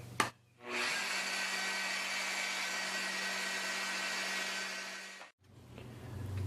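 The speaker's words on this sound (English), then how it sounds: "I'm just going to put a little chamfer on this hole just to see how it looks" A BDS MAB 485SB magnetic drill with a chamfering bit chamfers a hole, giving one steady, close whirring run of about four and a half seconds that begins and ends abruptly, with no talking.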